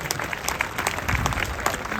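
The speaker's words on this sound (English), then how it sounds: "Give them all a round of applause" An audience at a high school graduation ceremony claps steadily, a dense continuous patter of many hands filling the space without a break.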